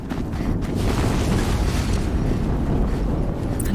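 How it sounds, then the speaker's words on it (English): A sustained, rumbling explosion roars in Horizon Zero Dawn, a dense low-heavy blast that stays loud and steady for several seconds with no talk over it. "Another explosion."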